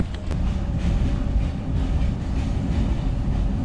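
A first class train in Vietnam rumbles along with a steady low roar of wheels and carriage noise, faint rhythmic clatter underneath and a brief higher squeak near the start, no voices.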